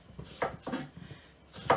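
A knife thinly slices sweet onions on a cutting board, giving three or four crisp, close chopping taps at an uneven pace.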